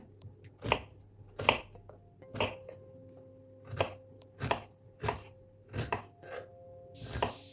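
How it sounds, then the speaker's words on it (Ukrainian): A knife taps sharply on a cutting board in a slow, irregular series of close chops, about a dozen strikes with short pauses between, dicing an onion into cubes. "тепер на черзі цибулька. Нарізаємо її кубиками."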